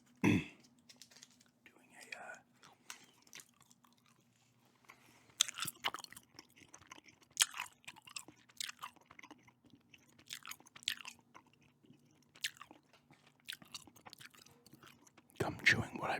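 Gum chewing close to the microphone, soft wet smacks and clicks repeating at irregular intervals over a quiet background, with faint whispered speech in places.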